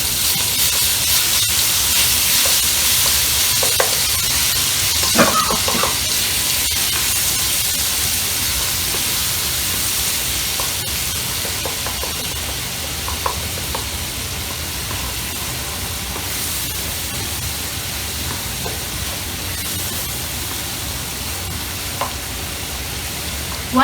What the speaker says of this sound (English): The oil is nice and hot since it is already used. I'm adding around 2 teaspoons of garlic.